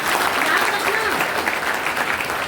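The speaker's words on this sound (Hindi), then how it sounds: "अरे एक बार ताली तो बजा दो।" A jail audience at a devotional satsang breaks into sustained applause, a dense wash of clapping that carries steadily throughout.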